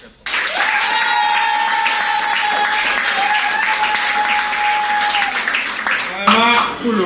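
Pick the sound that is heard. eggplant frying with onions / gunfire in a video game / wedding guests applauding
wedding guests applauding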